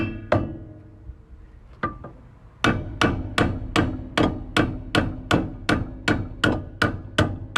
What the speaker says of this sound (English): Give this a little tap, tap, tap-a-roo without damaging the threads.